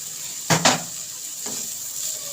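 Vegetables fry lightly in oil in a pan, giving a steady soft sizzle broken by two sharp scrapes of a stirring utensil and a fainter clink later.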